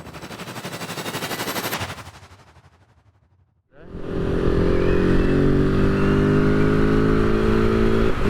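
A KTM 690 SMC R single-cylinder motorcycle revs hard, then falls nearly silent for a moment before roaring loudly again, its engine note climbing and holding steady as the quick shifter snaps through gears.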